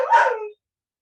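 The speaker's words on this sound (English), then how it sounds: "No barking." A single short dog bark, close and sharp, followed by silence.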